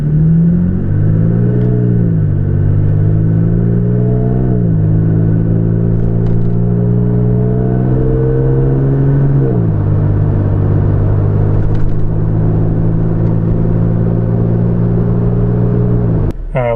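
A 2022 third-generation Toyota Tacoma with a MagnaFlow Overland exhaust accelerates from 0 to 45 mph, heard from inside the cab: a steady, loud engine drone climbs in pitch and dips at several gear shifts, with no talking.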